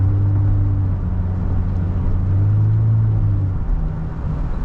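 A 3rd gen Nissan Frontier cruising at 60 mph gives a steady, low exhaust drone and rumble from inside the cab, continuous and fairly loud with a faint whir of road noise.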